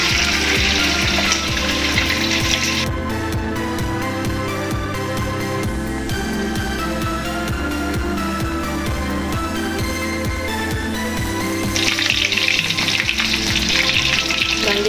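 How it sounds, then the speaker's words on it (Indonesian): Chicken fries in a pan with a continuous loud sizzle and crackle of hot oil, steady throughout, with background music layered over it. "Selanjutnya aku akan menggoreng ayam."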